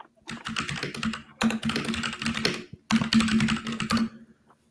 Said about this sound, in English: I'm typing. Yeah, it's really audible. Yeah, my mechanical keyboard is like this.